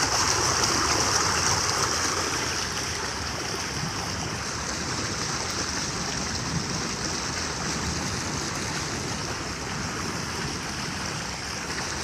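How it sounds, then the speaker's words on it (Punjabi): Continuous loud rushing of fast-flowing floodwater in a street after heavy rain, a steady broadband roar with no pauses and no voices. "ਪਾਣੀ ਦੀ ਜਿਹੜੀ ਸਪੀਡ ਆ ਬਹੁਤ ਜ਼ਿਆਦਾ ਤੇਜ਼"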